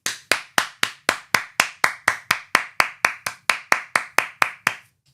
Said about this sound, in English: Someone clapping from the back, louder.